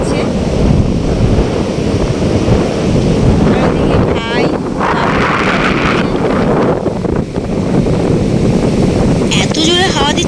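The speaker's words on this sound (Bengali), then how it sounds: "এত জোরে হাওয়া দিচ্ছে যে কিছু বোঝাই যাচ্ছে না" Strong evening wind buffets the microphone on Mandarmani beach, with a heavy low roar of sea waves rolling in beneath it and brief voices breaking through now and then.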